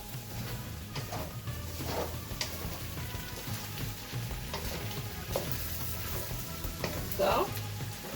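Beijing beef and beef fried rice sizzling in a pan while being stirred, a steady close crackle with occasional scraping clinks, a voice talking over it at times.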